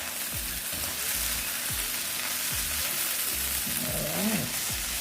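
Soy sauce goes into shrimp fried rice cooking Jamaican-style in a hot pan, making a loud, continuous sizzle with a spatula scraping and knocking at a regular rhythm, plus a brief swell of hiss near the end.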